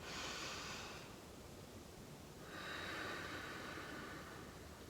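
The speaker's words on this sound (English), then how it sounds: "what we want to work more towards is belly breathing" Two slow, deep belly breaths, each a soft airy rush, close to the microphone with a quiet pause between them.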